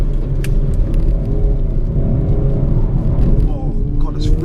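A 2022 Hyundai Kona N driven hard through corners: a loud, steady engine drone and road rumble filling the cabin, with someone talking over it.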